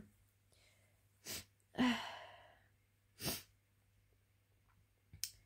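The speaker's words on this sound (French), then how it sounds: "J'arrête pas d'éternuer" Sharp sneezes punctuate a quiet room, several bursts spaced a second or two apart, one followed by a breathy sigh, against a low hum.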